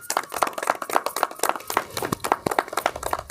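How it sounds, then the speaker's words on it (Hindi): An audience at a Golu Devta temple puja in Chamadakhaan claps in a lively, uneven patter of individual hand claps, close and fairly loud, continuing throughout without speech. "जोरदार तालियों के साथ"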